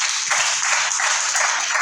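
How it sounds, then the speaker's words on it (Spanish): A church congregation applauds loudly and steadily, dense clapping filling the space without pause. "Denle ese aplauso a Dios"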